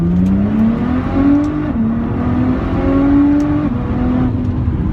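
A Nissan GT-R R35 pulls at full throttle in second gear, holding loud, steady engine drone with rising pitch and brief dips at gear shifts around 6,000 rpm, heard from inside the car with no talk.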